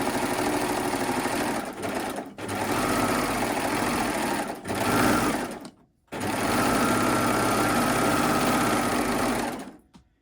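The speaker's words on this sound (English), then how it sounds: "I've gone right the way around with the overlocker. I'm just finishing this last one." An overlocker stitches around the pockets of summer trousers with a fast, loud, steady mechanical whir close by, broken by three brief stops before it starts again.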